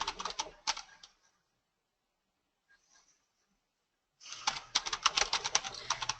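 A burst of quick clicky keystrokes on a computer keyboard as a username and password are entered, then a near-silent pause and a second rapid flurry of typing, close and clear.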